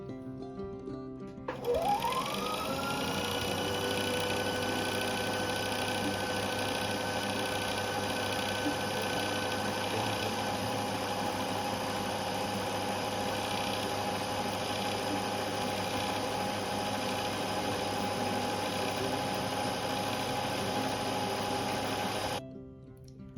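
Electric sewing machine running a long continuous straight stitch on doll dress fabric, steady motor whir and needle rhythm from start-up to stop, close and alone.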